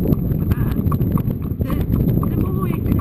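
A young horse walking on a road, hooves clip-clopping in a steady close rhythm under a rider's continuous talk.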